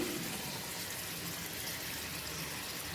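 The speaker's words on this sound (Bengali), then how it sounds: "একটু হালকা করে জল দিয়ে দিলাম" Water pours steadily into a frying pan of fried green chillies, making a continuous broad splashing hiss that stays even for a few seconds.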